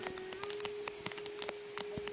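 Rain falls at the Shivaji Spoorthi Kendram meditation hall near the Srisailam temple, with scattered drips and patters tapping steadily over a constant low hum, moderately close, with no voices.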